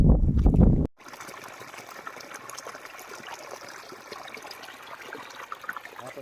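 Water running steadily from a borewell pump line, a continuous trickling flow heard alone after a brief burst of other noise at the start.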